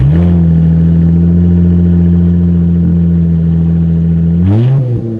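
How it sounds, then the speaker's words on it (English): A Dodge Challenger engine runs with no exhaust fitted, a loud, raw, steady drone close up that climbs in a brief rev at the end. "I decided to turn the car on with no exhaust on"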